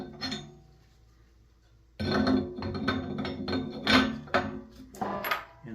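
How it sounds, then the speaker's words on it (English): A metal auger is pushed into a VEVOR commercial meat grinder, producing a short knock, then a couple of seconds of quiet, then a run of close metallic clunks, clinks and scrapes as the parts seat together. "insert your auger."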